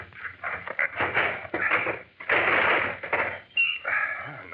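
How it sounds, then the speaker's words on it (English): A locked desk drawer is pried open with a fireplace poker in an old radio drama, producing creaking, scraping wood strain and rattling that come in uneven bursts and end with a squeaky give, and no one speaks. "Hand me that poker from the fireplace. All right. Thanks. We'll pry the drawer open."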